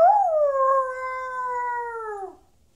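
A person imitates a wolf howl in one long, sustained voiced cry that rises briefly, then holds a steady pitch for about two seconds before trailing off, loud and close with no other sound.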